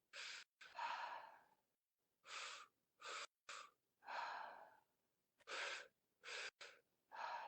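Slow, deep breaths in and out during a guided breathwork exercise, a steady rhythm of close, airy inhales and exhales separated by brief silences, with no speech.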